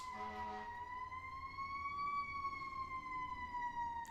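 A siren wails steadily in a slow rising and falling tone, somewhat distant, over low traffic rumble.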